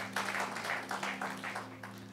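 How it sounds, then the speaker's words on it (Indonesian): A church congregation claps, giving a brief burst of somewhat rhythmic hand claps over a steady low hum from the hall's sound system. "sekali lagi tepuk tangan untuk Tuhan"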